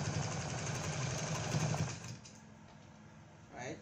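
A sewing machine runs in a steady, loud mechanical whir while stitching a keyhole neckline, shaking the table it sits on; it stops about halfway through, leaving a quieter room.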